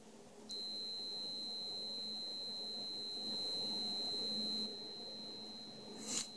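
Kyoritsu 2200 ultra-slim AC clamp meter giving a steady, high-pitched continuity beep that holds for about four seconds, faint and alone against a quiet background.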